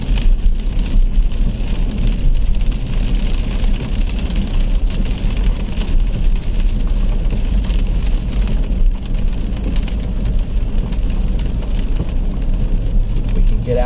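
Heavy rain and hail from a strong thunderstorm pelt a car on the road, a dense, steady loud drumming on the body and glass that never lets up.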